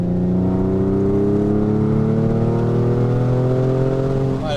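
A Porsche 911 with a freshly rebuilt engine pulls hard at full throttle toward 5,200 RPM, its loud, steady engine note climbing continuously in pitch with no one talking.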